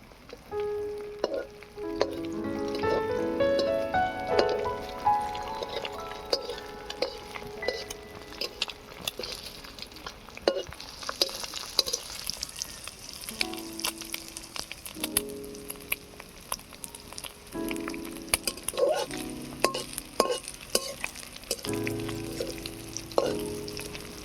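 Eggs frying in a pan with onions scattered around them, a steady close sizzle with intermittent clinks and scrapes of a utensil against the pan, no talk.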